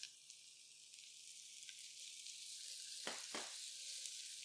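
Shallots sizzling in butter in a pan while cooking balsamic lamb chops, a steady soft frying hiss throughout with a couple of brief louder crackles near the end, no talk.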